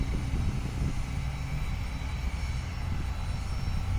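A steady, moderately distant engine roar from an airplane rolling on the runway at Richmond International Airport holds an even level for the whole stretch, with no talking.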